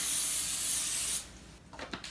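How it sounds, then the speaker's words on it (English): Vegetable cooking spray hisses steadily onto a pie pan for about a second, loud and close, then stops; a few faint handling clicks and rustles follow. "we're going to grease and spray with vegetable spray"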